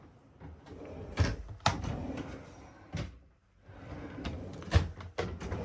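Large full-extension drawers in an Argosy travel trailer hallway slide out in several distinct knocks and rattles, close by with short quiet gaps between.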